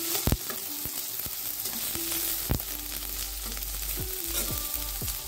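Chopped onion and garlic fry in a hot pan, a dense continuous sizzle with a few sharp clatters and scrapes from stirring, close and fairly loud, with no voices.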